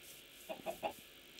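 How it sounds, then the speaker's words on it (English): Three quick, close clucks from a Minecraft chicken, evenly spaced and rising slightly in loudness, set against a faint steady background hum with no speech. "Chicken."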